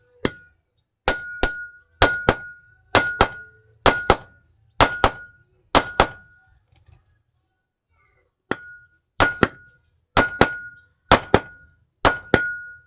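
A hammer strikes a socket against the side of a part in sharp metallic clinks, in two groups of about eight fairly even, close blows separated by a pause of a couple of seconds.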